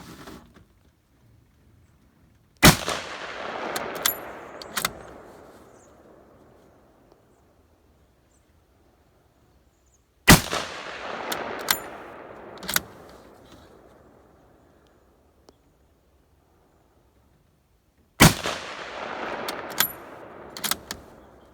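K98K and M1917 Enfield rifles fired at a 50-yard target: three sharp, loud single shots spaced several seconds apart, each followed by a rattling echo and a decaying outdoor reverberation, with quiet gaps between.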